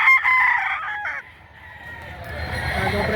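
A rooster crows at a livestock auction where chickens are sold, one loud close call that fades out, followed by a low murmur of background noise.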